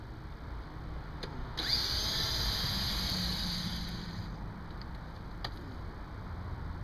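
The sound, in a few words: Makita screw gun driving screws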